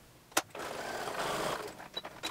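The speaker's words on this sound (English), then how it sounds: "I am back stitching right at the dot there" A sewing machine backstitches a seam on a small fabric coin purse. A faint, quick whirring burst follows a soft click, then trails off into light taps in a quiet room.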